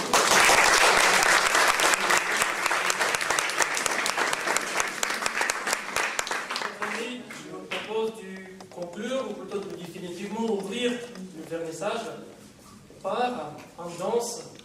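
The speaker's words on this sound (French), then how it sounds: "On peut les applaudir." Audience applause at a French cultural exhibition opening, loud and dense at first, then thinning into scattered claps as a voice begins speaking over the fading sound.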